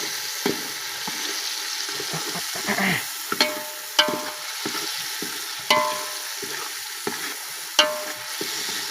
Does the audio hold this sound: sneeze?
no